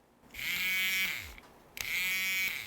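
A battery-powered IKEA handheld milk frother whirs with a strong razor-like buzz, running in two close bursts separated by a brief pause, with its pitch winding up at the start of each burst and sagging as it slows.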